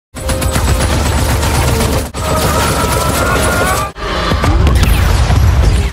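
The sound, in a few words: helicopter gun firing at a giant crocodile in a film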